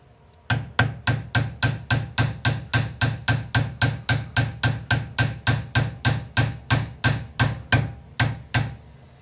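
Steady rhythmic hammer blows on a metal seal during ball-joint replacement, about three per second, each a sharp ringing strike, repeated some twenty-five times at close range with no talking.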